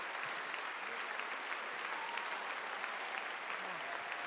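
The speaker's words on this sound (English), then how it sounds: "Let's give them a round of applause." Sustained applause from a crowd at a celebration of life and street dedication in Nashville honoring civil rights icons, dense and steady for several seconds.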